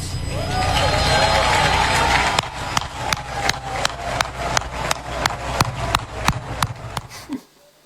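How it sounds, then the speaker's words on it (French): People at the inauguration of the FECAFOOT headquarters applaud for President Iya Mohamed in a loud, dense burst. It then settles into sharp, evenly spaced rhythmic claps that end abruptly. "je vais vous prier une fois de plus de vous lever et d'applaudir pour le président Iya Mohamed"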